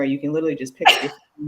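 A single sneeze bursts out midway through a conversation, brief and fairly close, with one person talking just before it and another resuming right after.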